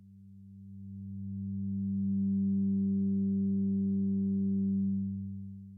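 Low, steady synthesizer drone whose filter cutoff is opened by hand so the tone brightens and swells, then closes again and fades, heard alone without any talk.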